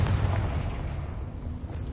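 Confringo fire-blast spell erupting in the Hogwarts Legacy video game, a loud, close booming explosion with a heavy low rumble that peaks at the start and decays over two seconds.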